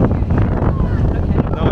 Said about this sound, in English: Oh, so windy today.